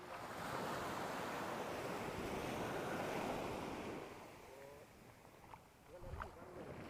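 Sea waves washing onto Munakkakadavu beach near Chavakkad, a steady, loud broadband surf rush with wind noise on the microphone that eases after about four seconds into softer, broken wash.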